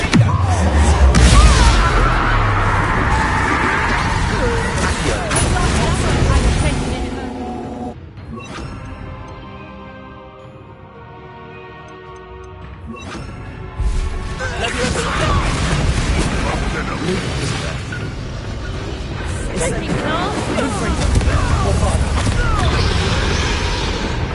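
Confringo and Bombarda spell blasts in Hogwarts Legacy, loud smashing explosions and crashing impacts filling most of the stretch, with a quieter lull in the middle before the bangs resume; voices talk over parts of it.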